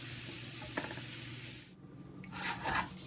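Sugar and filling mixture for gujiya being stirred in a pan as the sugar melts, a steady scraping and sizzling that fades midway, then returns with a brighter burst of spoon-scraping near the end.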